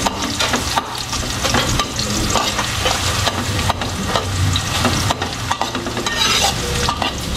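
Garlic and onion sizzle steadily in a hot pan, a constant close frying hiss broken by scraping stirs of a utensil, with no talking.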